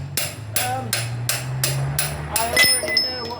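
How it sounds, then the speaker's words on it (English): A big hammer strikes a CRF250L motorcycle swinging arm over and over, with six evenly spaced, loud metallic blows followed by a few ringing, less regular hits over a low hum. "big hammer time"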